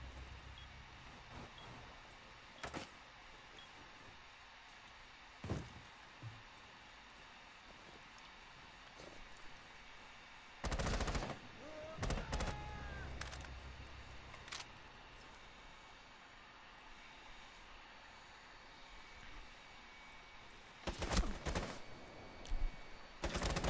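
Pistol shots in a Rainbow Six Siege ranked match: scattered sharp cracks and short bursts of gunfire, spaced irregularly over a low ambient background, with clusters near the middle and the end.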